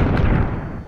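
A bazooka fires in a VR sandbox game on an Oculus Rift S, one loud booming blast with a low rumbling tail that fades over under a second, with no talking.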